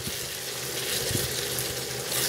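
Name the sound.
stirring chicken chana daal with green chillies and garam masala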